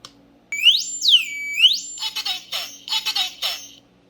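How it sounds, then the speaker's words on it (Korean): A wireless home smoke detector, pressed on its test button, chirps a rising and falling electronic tone, then gives a series of rapid, loud beeping bursts in two clusters. "연기 감지기가 정상적으로 동작되는 게 보이고요"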